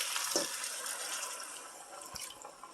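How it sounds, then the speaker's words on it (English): About half a cup of water pours and sizzles into a hot Dutch oven of frying potatoes, onions and kielbasa, a hissing, bubbling rush with a few soft clinks, close by. "I'm going to add some water."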